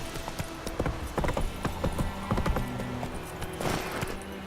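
Horse hooves clip-clop in a quick galloping rhythm in The Witcher 3, close and steady, with faint game ambience underneath.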